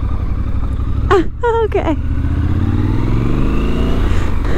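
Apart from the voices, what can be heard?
Triumph Scrambler 1200 XC motorcycle riding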